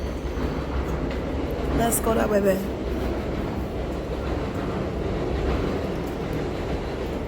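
A train passes close to a home, its steady low rumble and rail clatter filling the background throughout while someone talks over it.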